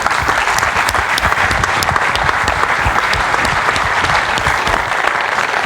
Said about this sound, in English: giving everyone here who's been involved with organising this fantastic conference a round of applause